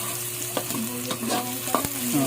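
Onions frying in a pan and being stirred, a continuous close sizzle broken by sharp scraping strokes of the utensil.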